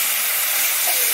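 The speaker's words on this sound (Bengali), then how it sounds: "এবারে একটুখানি জল দিয়ে দিচ্ছি।" Water hitting a hot pan of taro with salt and turmeric, bursting into a loud broad hiss of steam that holds steady for a moment.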